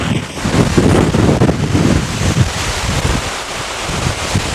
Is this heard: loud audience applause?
no